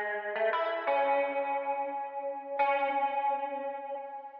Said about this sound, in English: The secret here was combining a chorus effect with a tremolo made with the autopan effect and this frequency shifter automation.